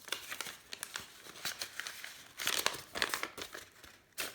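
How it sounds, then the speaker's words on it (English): Crinkly paper rustles and crackles as a handmade card's envelope is pulled open, a close, quiet series of uneven crumpling bursts with no talking. "I'm gonna go ahead and open this up first"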